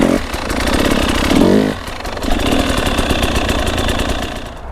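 Motorcycle engine idling and revving lightly through a slow pivot turn on the clutch bite point, a steady close rumble that swells to a louder burst of throttle before easing back to a rough, pulsing idle.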